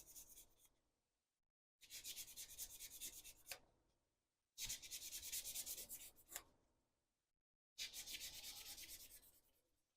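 A 600-grit sanding sponge rubs over a plastic 1/48 Kinetic EA-6B Prowler model part in three close, soft scratchy passes, each a couple of seconds long, separated by short quiet pauses.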